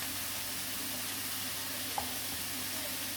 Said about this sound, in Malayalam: കൽച്ചട്ടിയിൽ തിളച്ച് വന്നിട്ടുണ്ട്.